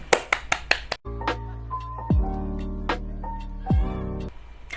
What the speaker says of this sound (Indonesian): Mari kita berikan tepuk tangan untuk kalian semua yang bisa menjawab dengan baik.